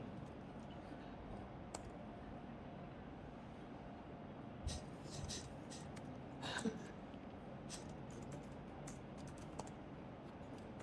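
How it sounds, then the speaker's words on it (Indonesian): Soft keystrokes tap out a PowerShell command on a computer keyboard, a quiet irregular run of clicks over faint room noise. "kita akan mengetikkan get alias dir"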